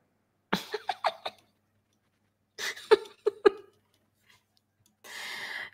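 Someone coughs in several short clustered fits separated by silence, close to the microphone, ending with a breathy rasp.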